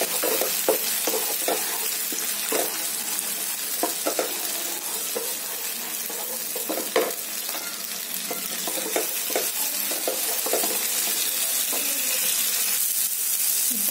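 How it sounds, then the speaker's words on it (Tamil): Onions that have softened, with small tomatoes just added, sauté in a pan for a lamb-brain fry, giving a steady, close sizzle broken by repeated scraping stirs and occasional clinks, with no voices. "இப்போ வெங்காயம் நமக்கு நல்லா வதங்கிடுச்சு. இப்போ நம்ம தக்காளி சேர்த்துக்கலாம்"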